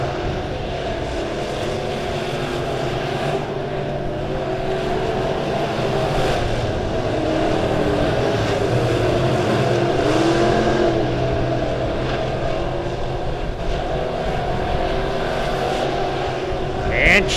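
Midwest modified race cars roar around the dirt oval at Springfield Raceway on opening night, a steady loud engine drone from the pack with passing surges throughout.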